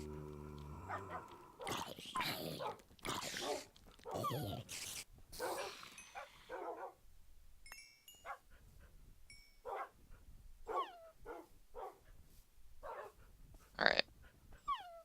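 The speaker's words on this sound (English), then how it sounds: "Dogs everywhere." Several Minecraft dogs (wolves) bark, whimper and growl in irregular sharp bursts, some loud and close, others fainter, with someone talking in between.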